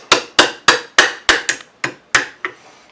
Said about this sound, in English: A few little taps there.